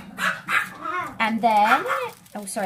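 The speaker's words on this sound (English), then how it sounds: "that's the dog's going, because somebody's at the door." A pet dog barks and yips repeatedly, loud and close, as someone is at the door during rose wrapping, with a person talking over and between the barks.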